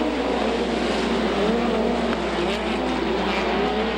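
USAC midget race cars roar at full throttle around the Knoxville Raceway dirt oval during a ten-lap semi-feature, a loud, continuous engine drone with overlapping cars holding steady for the whole stretch.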